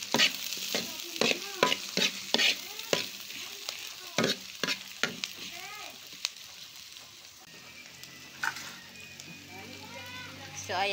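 Onions and chili are stir-fried for sisig in a hot pan, with a run of sharp, rhythmic spatula scrapes over a soft steady sizzle that thins out toward the end.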